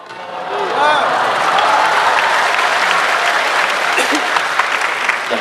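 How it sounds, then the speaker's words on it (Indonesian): Crowd applause at a religious lecture in an Islamic center in Ambon, a loud, dense burst of clapping that swells quickly and holds steady, with a voice speaking faintly under it at the start. "Jangan tepuk tangan dulu"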